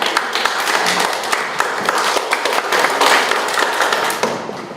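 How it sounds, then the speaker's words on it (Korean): Attendees at a Korean security and diplomacy forum on the National Security Act clap to welcome the next speaker, a loud, close burst of many hands with distinct sharp claps standing out, continuing steadily without speech. "여러분 큰 박수 부탁드립니다"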